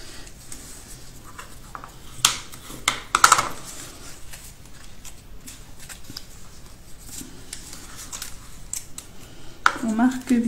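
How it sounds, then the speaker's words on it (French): A bone folder is drawn firmly along folds in scrapbooking paper to crease them, giving scattered close scrapes and rustles with a few sharper strokes, while a voice talks quietly throughout. "on va marquer nos plis ici vers l'intérieur. Toujours avec le plioir."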